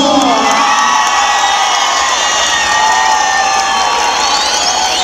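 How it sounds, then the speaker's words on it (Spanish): A large crowd at a university rodeo roping tournament in a bullring arena cheers loudly, with shouts and whoops rising over scattered applause in a continuous, boisterous roar. "que se oiga el aplauso."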